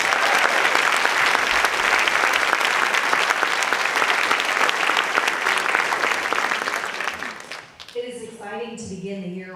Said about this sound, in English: will you join me in one more round of applause for all of our award winners?